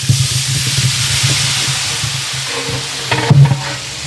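Tomatoes fry with golden-browned onions in a large pot for 20 kg of chicken biryani serving 140 people, giving a loud, steady sizzle and hiss with a brief clatter of stirring near the end.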